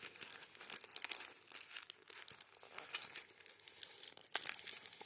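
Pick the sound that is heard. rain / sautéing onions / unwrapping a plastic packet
unwrapping a plastic packet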